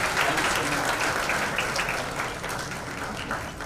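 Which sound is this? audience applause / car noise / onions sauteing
audience applause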